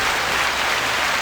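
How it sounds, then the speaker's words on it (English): A burst of applause plays on a podcast, dense, even clapping from a crowd that fills the whole short moment at steady loudness. "we can hear that now and know that everybody's clapping for us"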